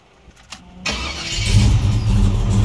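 A 1970 Oldsmobile Cutlass engine cranks and catches after a key turn, following a few faint clicks, then settles into a loud, steady, rumbling idle close by.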